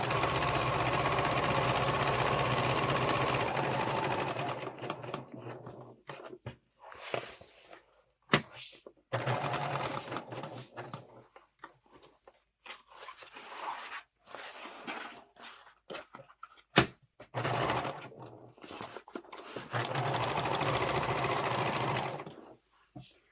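A sewing machine stitches a tool storage roll in close, loud bursts of rapid mechanical whirring, separated by quiet pauses with small handling clicks, the longest runs at the start and end.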